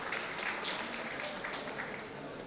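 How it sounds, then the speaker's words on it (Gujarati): A welcoming audience applauds guests on stage at a felicitation ceremony, with steady, dense clapping from a crowd that stays even throughout. "જોરદાર તાળીઓથી સ્વાગત કરીએ એમનું"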